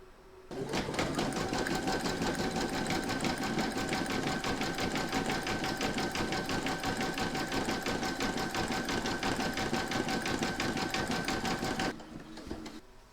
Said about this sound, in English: then you can go and stitch round number 12, and that's going to do the satin stitching on the facial features